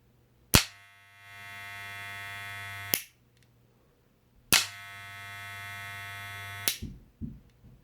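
Wahl hair clipper with a newly replaced switch, switched on twice, each time giving a steady electric buzz for about two and a half seconds, opened by a sharp switch click and ending in another.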